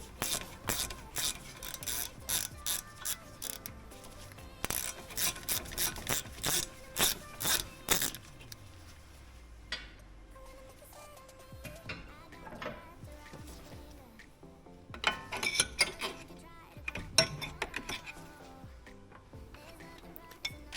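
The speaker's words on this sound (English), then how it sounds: "you'll need to use a screwdriver just to pry the top of the caliper and pads away slightly" A screwdriver pries the brake caliper and pads away from the disc on a 2020 Audi A1, giving rhythmic metallic scraping and ratcheting strokes, then quieter fiddling and another burst of scraping.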